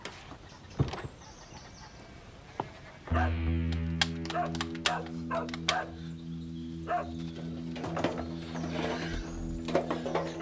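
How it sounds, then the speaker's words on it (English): A dog barks, yips and whimpers repeatedly at close range, a burst of sharp, irregular calls laid over a steady low engine-like drone. "Shut up! Bloody dog."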